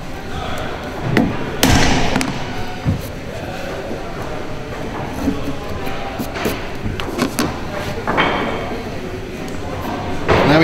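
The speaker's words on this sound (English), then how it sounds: "Put your chisel on the line." A chisel set on the line is struck to cut a hinge recess in wood, with a few irregular, fairly close thuds and knocks spread over a steady background rumble.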